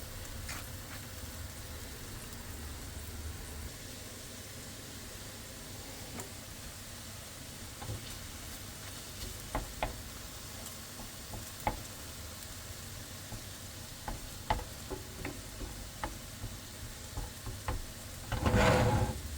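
Two organic eggs frying in a hot skillet during a van breakfast give a steady low sizzle throughout, with scattered small ticks and pops and a louder burst of crackling near the end.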